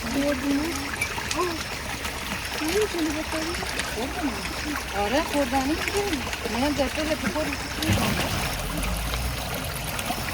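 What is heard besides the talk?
mountain spring water flowing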